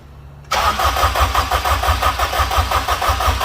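A Honda K20 engine with flooded spark plugs cranks and struggles to start. A loud rhythmic churning begins abruptly after a short quiet lead-in and pulses steadily close by.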